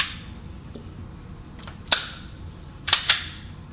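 A BRG9 Elite 9mm pistol fires three slow, deliberate shots, each a sharp close crack. The first stands alone, and the last two come about a fifth of a second apart. Quieter clicks and faint outdoor noise sit between the shots.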